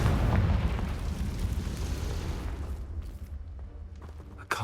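A Confringo spell blast in the video game Hogwarts Legacy sets off a big booming explosion that rumbles loudly at the start, then fades into a crackling, debris-filled tail over several seconds with no talk.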